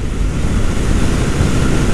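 Loud headwind buffets the microphone while a Honda Titan motorcycle rides at highway speed, a dense continuous roaring rush that swamps everything else.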